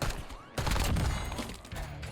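Sniper fire rings out in Call of Duty Warzone as loud gunshot cracks and rumbling blasts, with a sharp report at the start and more impacts following in quick succession.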